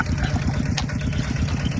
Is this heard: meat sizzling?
no